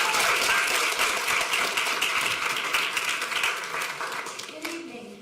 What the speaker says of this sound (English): please give a round of applause for Montoya Merrill.